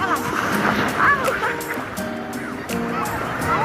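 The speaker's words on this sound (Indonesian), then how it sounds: "terlalu kencang ombaknya, makin ke pinggir, makin menyentak" Strong surf breaks along the shore at Biru Beach in Makassar, a continuous close wash of crashing water, with people's voices mixed in under the rolling waves.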